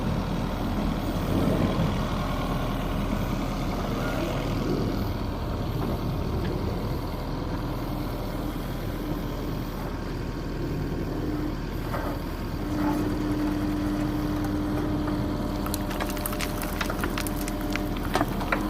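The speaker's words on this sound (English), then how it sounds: "And here's Mitch operating the Yanmar backhoe." A Yanmar backhoe digging on a house-addition site, its diesel engine droning steadily at moderate distance, with occasional clanks and a brief higher whine from the hydraulics partway through.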